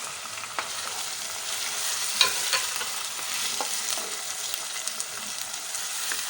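Tomatoes frying in a pan while being stirred give a steady close sizzle, and a few light spoon scrapes and clicks break through the hiss.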